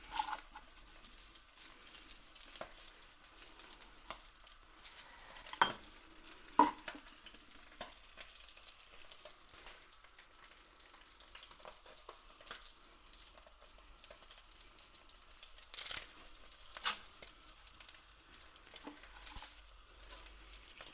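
Pasta broken in half and dropped into a pan with salmon, simmering with quiet bubbling and sizzle, a few louder clinks and stirring knocks standing out now and then.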